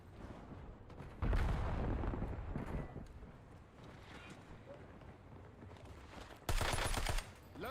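Call of Duty Warzone gunfire rings out in two loud bursts of rapid automatic shots, one early and one near the end, separated by quieter background game noise with faint voices.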